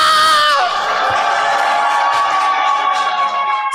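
A church congregation at an anniversary worship service shouts and cheers loudly in a sustained, ringing burst of many voices, dense and reverberant throughout.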